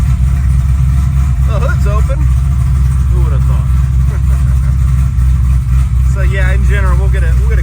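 A 1000 HP 2018 Yenko Camaro muscle car idles with a loud, deep, lumpy rumble throughout, steady and close, while someone talks over it.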